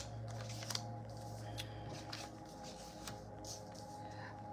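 A deck of tarot cards being shuffled gives soft, quiet papery riffles and taps, with irregular brief bursts over a low steady background hum.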